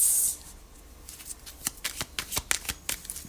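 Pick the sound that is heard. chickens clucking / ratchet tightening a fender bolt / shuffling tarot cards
shuffling tarot cards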